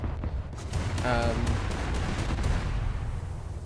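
Warship secondary guns firing in the naval battles of War Thunder, a steady string of booming shots over a rumbling background, with someone talking through part of it.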